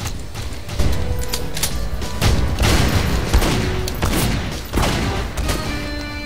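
Rapid bursts of gunfire in GoldenEye: Source, dense overlapping shots and booms in a cavern map deathmatch, loud and continuous with little pause.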